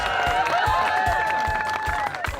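A crowd at the 2004 PDGA Professional Disc Golf World Championships applauds and cheers the repeat world champion, dense clapping and whooping filling the air, with voices mixed in.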